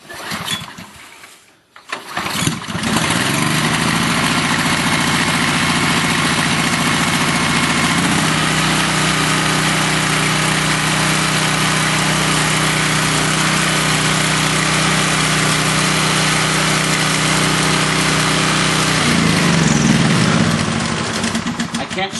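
A gas generator engine cranks, catches after a brief pause, and settles into a loud, steady running drone that holds for about twenty seconds before its pitch shifts slightly near the end.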